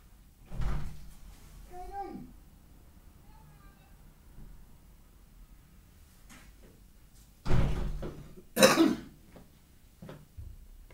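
A front door bumps and thuds open and shut in a home, with two heavy knocks or slams near the start and later, mixed with a throat clearing and a brief voice.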